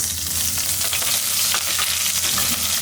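Cinnamon pieces and a sprig of curry leaves sizzle and crackle steadily in hot oil for goat head curry, with a faint stir in a village kitchen, and nobody speaks.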